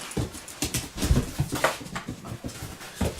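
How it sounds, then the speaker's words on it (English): A dog whimpering and whining indoors in a home, giving short uneven bursts of high-pitched sound mixed with low thumps and movement, fairly close and moderately loud, with no one talking. "That's just the dog going a little kooky."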